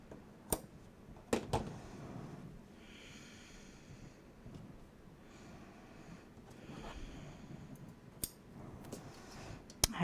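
Scissors snip through paper while cutting pieces to size for a scrapbook file folder album, with a few sharp, faint cuts spread across a quiet, soft background.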